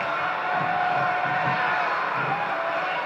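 A packed arena crowd in the WWE SmackDown vs. Raw 2007 wrestling game roars in a steady, dense wash of cheering and whoops, loud and continuous throughout.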